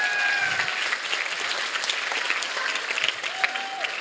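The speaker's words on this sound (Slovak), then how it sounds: "Odmente ich potleskom." Audience applause at the DonBoscoShow 2025 sports event, steady dense clapping from a crowd that holds at an even level throughout with no talk over it.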